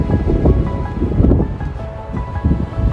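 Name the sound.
strong wind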